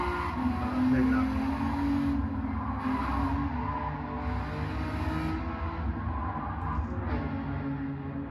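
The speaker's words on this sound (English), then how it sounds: "I think it has a good gargle on the downshifts." A front-wheel-drive car with a swapped engine revving, an ongoing mid-distance engine drone that rises and falls with gear changes under people talking.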